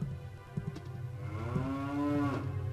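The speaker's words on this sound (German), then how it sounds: "ich höre ganz eindeutig eine Kuh, aber ich sehe sie nicht" A cow moos in the video game The Legend of Zelda: Ocarina of Time Master Quest, one long, drawn-out low call that rises and falls, heard clearly over a steady low game hum.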